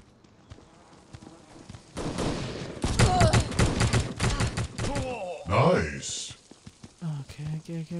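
Rapid automatic gunfire with heavy recoil in the mobile shooter Gods of Boom, crackling in dense bursts for several seconds amid other game effects, with a player talking over it.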